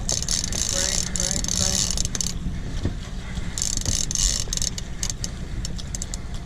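A fishing reel is cranked hard during a fight with a roughly 500 lb shark off Montauk, its ratcheting mechanism clicking in repeated bursts with brief pauses, over boat and water noise and voices in the background.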